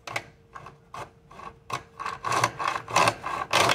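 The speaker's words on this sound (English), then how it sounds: "So now I'm going to very carefully put my saw into" Hand saw working into a groove in a wooden board, with repeated rasping strokes that start sparse and quiet and grow louder and more regular, close by and with no talk.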